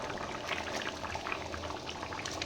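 Catla fish head pieces going into a pot of boiling dal, a steady close bubbling simmer with soft liquid stirring and splashing throughout, no voices.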